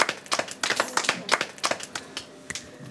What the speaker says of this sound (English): I think you should give yourself a big clap